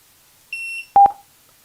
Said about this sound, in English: So you ping it, it pings the buzzer, and then it sends a ping back.